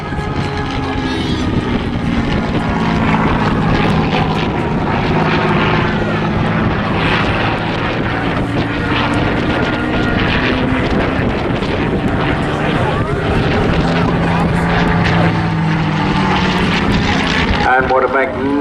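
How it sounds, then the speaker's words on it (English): A Supermarine Spitfire from the Battle of Britain Memorial Flight flies past at a seaside airshow. Its propeller engine roars loud and steady with wind buffeting the microphone, and the pitch shifts as it passes while a commentator talks throughout. "squad leader Mark Sugden brings in fabulous, once again, our third Spitfire of the day."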